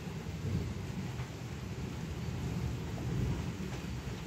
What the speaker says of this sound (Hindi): बजरंगी जी बेचारे हमारे घर के आके बैठ गए हैं आके बारिश में भीगने के चक्कर में।